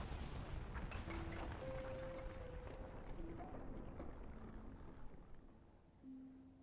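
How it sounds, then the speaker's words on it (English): A weapon-caused explosion in the video game Xenosaga: a heavy, rumbling blast that slowly fades out, with soft sustained music tones drifting over it. "No, this explosion was caused by weapons."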